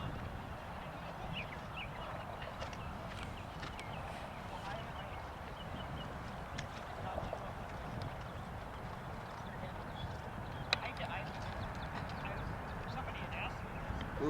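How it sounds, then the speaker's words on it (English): A horse runs under a rider during a coaching session, its hoofbeats a steady, fairly faint clip-clop rhythm that continues throughout under light background noise. "Let the horse run under you."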